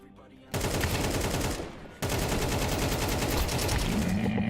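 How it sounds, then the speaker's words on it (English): Rapid automatic AK rifle fire in a video game, a loud sustained burst that briefly dips and then resumes as a dense continuous stream of shots close up. "Let's try with the rifle."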